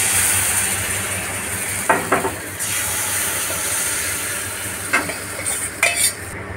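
Soaked dhoka lentil cakes frying in hot mustard oil in a kadai, a steady close sizzle broken by a few brief clattering stirs near the start and again toward the end.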